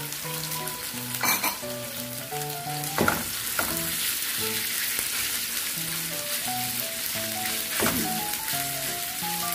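Ground pork frying in a pan, a steady bright sizzle with a few sharp scraping stirs of the spatula, close and loud with no talk.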